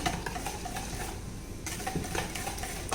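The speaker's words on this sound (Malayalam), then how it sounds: "കട്ടയൊന്നും ഇല്ലാതെ നല്ലതുപോലെ മിക്സ് ചെയ്തെടുക്കണം." A spoon stirs milk powder into a pudding mixture in a bowl, making continuous soft scraping with small repeated clinks against the container, close and steady.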